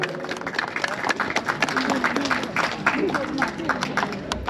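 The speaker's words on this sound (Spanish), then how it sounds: "Recibamos con fuerte voto de aplauso." Applause from guests at a 50th birthday celebration as a woman is handed the microphone, scattered hand claps heard over a murmur of nearby voices and chatter.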